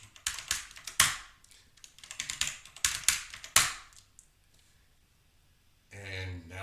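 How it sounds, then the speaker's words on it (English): Fingers tap out a short burst on a computer keyboard, crisp clustered clicks in quick uneven runs, then a pause before a voice starts speaking. "So we're going to type yes in all capital letters"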